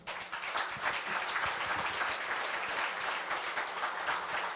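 A crowd applauds at a Korea University labor graduate school award ceremony, the Labor Culture Awards, with dense, steady clapping from many hands filling the hall at a constant level for several seconds and no speech over it.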